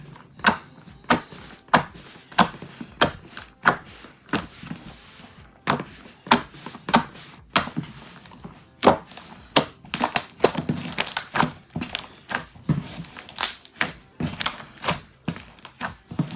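White homemade slime is squeezed and worked by hand on a white table, giving a long run of sharp, close clicks and pops in uneven bursts, with no talking.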